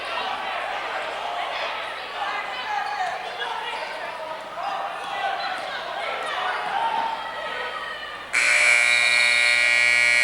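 A loud, flat end-of-quarter buzzer cuts in near the end of a high school basketball game and drowns out the crowd noise and gym chatter that filled the clip before it.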